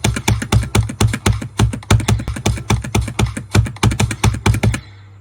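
Rapid clicking during a clicking challenge in a video game: a dense, loud, fast run of sharp taps for nearly five seconds that stops abruptly and leaves a low hum.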